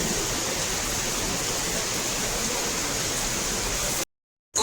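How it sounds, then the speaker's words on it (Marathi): Heavy rain falls with water running off, a dense steady hiss that stays loud and even for about four seconds before cutting to silence. "छान असा पाऊस पडतोय. पण ठीक आहे, आता सध्या गरज आहे खूप जास्त पावसाची लोकांनाही"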